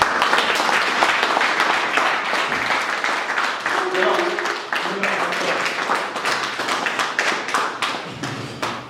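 Audience applause at a music event for a single release, loud dense clapping with sharp individual hand claps and taps, a few voices surfacing midway.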